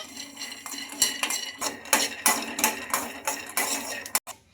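Peanuts frying in a kadai, a rapid series of sharp metallic clinks and rattles from a spatula against the pan, irregular and close, stopping near the end.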